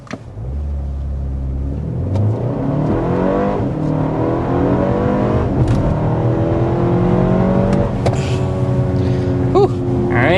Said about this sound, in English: we want to go ahead and start by giving you a hard acceleration.